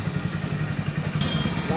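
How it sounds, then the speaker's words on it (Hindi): A motorcycle rumbles into a dark parking area with a steady, close engine chug and some clatter, a bump near the end, under a voice. "पहले बाइक की पार्किंग लगाने जा रहे हैं इसके अंदर"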